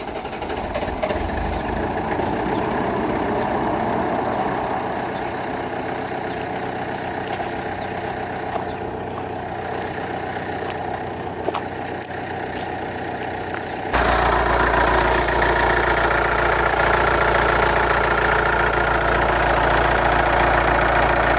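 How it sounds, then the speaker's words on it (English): A Toyota Corolla Verso engine idling steadily with a mechanical rattle, then shifting abruptly to a louder, denser running roar partway through, continuous and close, no voices. "so we're just going to go ahead and start the car now"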